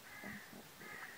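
Harsh bird calls, likely a magpie, sound twice in two short bursts over quiet river ambience while canoeing on the Vonne at Sanxay, moderately distant and not loud.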